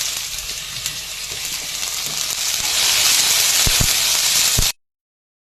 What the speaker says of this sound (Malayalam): ഇത് നന്നായിട്ട് വഴറ്റാം.